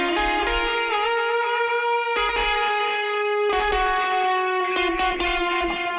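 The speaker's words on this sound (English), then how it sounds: "it's a guitar multi-effect plugin, and what we're utilizing is the amp, the cab, and the EQ that is in here" Electric guitar played through a multi-effect plugin's amp, cabinet and EQ, sustained chords and melodic notes ringing with rich harmonics in a few phrases, steady and loud with no talking.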